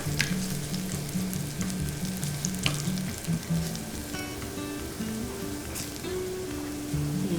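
Garlic for garlic fried rice sizzles loudly and steadily in a hot pan, with constant crackle, occasional scraping stirs and a steady background hum, no one speaking.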